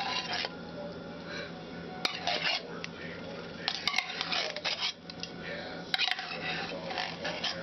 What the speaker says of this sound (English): I always like to stir it up first and make it a little creamy in the can first